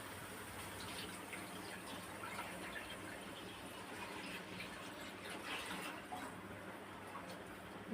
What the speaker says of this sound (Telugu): ఇప్పుడు సరిపడా నీళ్ళు వేసుకున్నాం